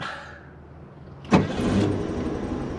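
Convertible Volkswagen Bug cranking and firing up after a quiet pause, an abrupt near catch followed by a rough, loud engine settling into a steady idle.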